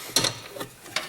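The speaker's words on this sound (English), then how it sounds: "Tighten down the nut." A ratchet tightening a nut onto a 10mm bolt in a John Deere 6000-7000 series tractor buddy seat bracket, three short sharp clicking bursts spaced apart, close and fairly loud.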